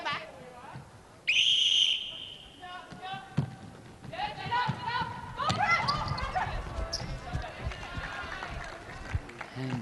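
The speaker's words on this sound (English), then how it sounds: "Whistle," A referee's whistle blows sharply at an international netball match between Samoa and Singapore, ringing out loud over running footsteps, ball bounces and a noisy indoor crowd.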